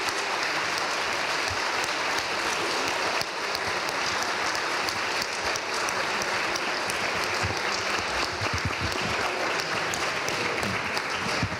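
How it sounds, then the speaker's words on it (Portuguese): A large audience applauds Portuguese parliament deputies at a meeting with Portuguese-language students in Zagreb, with dense, steady clapping that stays loud and even throughout, briefly dipping once before continuing. "quero um aplauso vosso para os deputados do"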